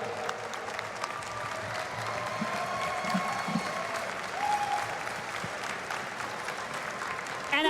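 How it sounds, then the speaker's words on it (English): An audience at the Final Fantasy XIV Fan Festival in Berlin applauds the champions. The applause is steady and sustained at a moderate distance, with faint voices in the background. "Please applaud all of them."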